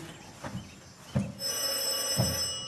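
An old telephone rings in a French documentary about Charles de Gaulle, sounding as two or three short, fairly faint rings over a steady background hum.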